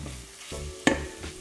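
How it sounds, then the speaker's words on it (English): 'Nduja being stirred in a frying pan, with a soft steady sizzle and one sharp scrape of the spoon against the pan partway through, close and fairly quiet. "So I'm just stirring it in"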